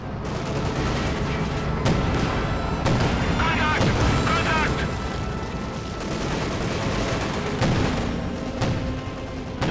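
A KV-8 flamethrower tank fights in Company of Heroes 2 amid dense, continuous battle noise of gunfire and booms, with someone talking steadily over the chaos.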